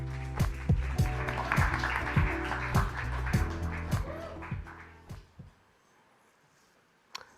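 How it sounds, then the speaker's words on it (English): Audience applause at a startup demo day pitch session, a round of claps that fades out over several seconds, followed by near silence and one sharp knock at the end. "Please give a big round of applause."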